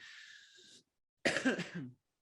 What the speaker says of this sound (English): Excuse the coughing, people.